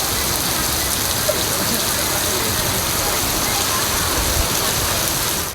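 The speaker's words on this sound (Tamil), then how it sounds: "மாலையில் திடீரென இடி, மின்னல் மற்றும் பலத்த காற்றுடன் கனமழை வெளுத்து வாங்கியது." Heavy rain pours down steadily and loudly in a dense, continuous wash, with no distinct thunder or wind gusts standing out, from an evening downpour in Tamil Nadu.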